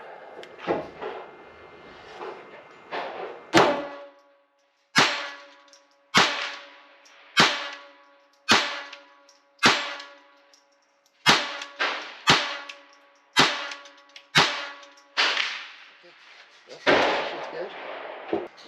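A steady series of sharp, loud gunshots from a Ruger Mark IV Tactical pistol, about a dozen, fired at a measured pace at steel targets on a range, with short echoing decays between them.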